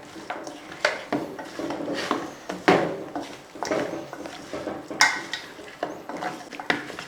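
Spice powders are stirred into meat in a pan, giving close, repeated scraping and clattering strokes of a utensil against the pan in an uneven rhythm, no talking.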